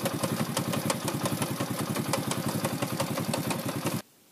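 A small moped engine, a 2V91W motor that has been seizing, runs with a fast, rhythmic knocking clatter throughout, then cuts off abruptly near the end.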